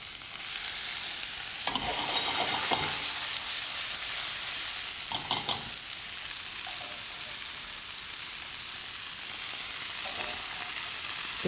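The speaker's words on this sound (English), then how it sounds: "All I'm doing is I'm putting it straight from the boiling water into my hot pan" Asparagus and vegetables dropped straight from boiling water into a hot pan for stir frying, a loud, continuous sizzle with occasional stirring scrapes throughout.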